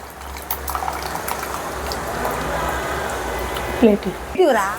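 Thick horse gram soup (ulava charu) bubbling in a pot, a continuous rolling boil with a brief swell of gushing liquid near the end.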